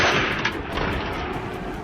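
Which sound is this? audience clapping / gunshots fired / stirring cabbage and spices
gunshots fired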